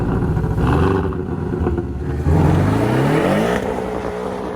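A Porsche 718 Cayman's 2.0-litre turbocharged boxer engine accelerates hard, its loud, close exhaust note rising steadily in pitch through the gears, with no one talking.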